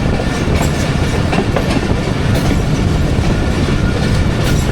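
Passenger train 11 Up at Kharian Cantt station, rolling past with a loud, continuous rumble and steady clickety-clack of wagon wheels close by, no voices.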